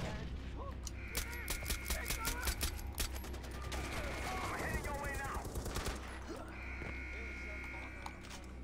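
Rapid bursts of video game gunfire from Far Cry 4, with several quick automatic volleys mixed with game sounds and a voice talking over them.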